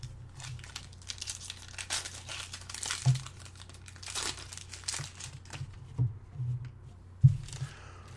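Crinkling foil wrapper of a Magic: The Gathering Dragons of Tarkir booster pack being torn open, a close, continuous rustle with sharper crackles and snaps around the third, sixth and seventh seconds, no talking.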